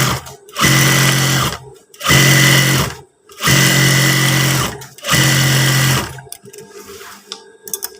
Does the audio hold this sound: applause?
no